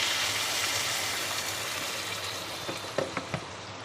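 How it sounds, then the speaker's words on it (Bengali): Hot water poured into a chickpea and potato curry (ghugni) in a pan, a steady soft liquid rush with a few small splashes near the end. "এখন আমি দিয়ে দেবো আন্দাজ মতো জল। আমি এখানে গরম জল ব্যবহার করছি।"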